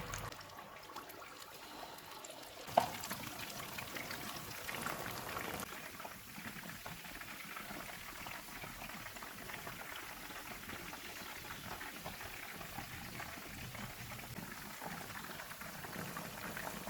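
Chicken frying in hot oil on a medium-low stove, a continuous bubbling sizzle that jumps in loudness after a brief quieter start and then holds steady, with no talking.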